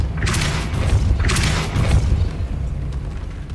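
Spell blasts from the Depulso force spell in Hogwarts Legacy: two loud booming bursts close together, each with a sharp crackling attack over a deep rumble, then fading.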